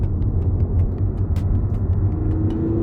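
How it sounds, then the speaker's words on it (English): A VW MK6 Jetta TDI with a DSG transmission cruises along, its low diesel drone and road rumble steady from inside the cabin, with a few faint clicks and no talking. "So now we're driving around with the DSG transmission."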